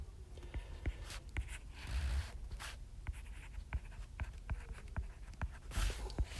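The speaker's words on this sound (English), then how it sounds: "First thing I would like us to do is simply write out the formula." A pen or pencil writes out the quadratic formula by hand on paper, close and quiet, with short scratchy strokes and taps in an irregular rhythm over a faint room hum, no speech.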